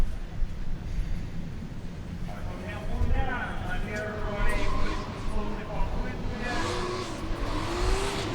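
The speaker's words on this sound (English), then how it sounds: "And the next one is Artur Melkuman on his Nissan Silvia S14 with 606 horsepower." Nissan Silvia S14 drift car with 606 horsepower at an RDS GP qualifying run in Sochi, engine revving and wailing through sweeping pitch rises at moderate distance, over a commentator talking throughout.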